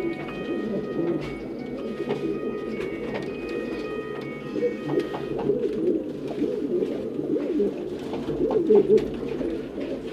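Quetta pigeons in a loft setup coo continuously in overlapping low, burbling calls, close and moderately loud, with several birds vocalizing at once.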